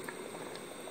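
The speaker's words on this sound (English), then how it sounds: "my cast iron pot only up to boiling, as you can see." A cast iron pot of chicken simmers toward a boil under its lid, a brief soft bubbling and burbling of liquid heard close up and fairly quiet, with no voices.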